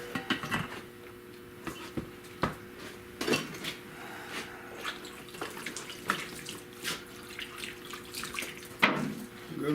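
Water splashing and running over rusty car trailing arms during a wash-down, with scattered clatter and drips throughout, fairly close and moderate in level.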